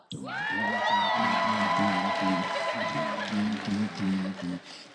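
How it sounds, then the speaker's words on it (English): Convention crowd at ColossalCon Texas cheering and whooping for a voice actor, with loud overlapping shouts and yells over a rhythmic pulsing beat, sustained and close, tapering near the end. "And let's all give Spike Spiegel, Steve Blum a round of applause."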